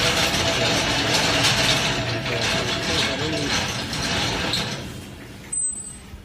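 A machine processing natural rubber in a rural workshop in Bangladesh runs with a steady loud mechanical rumble and rhythmic grinding clatter, then winds down near the end with a brief high squeal.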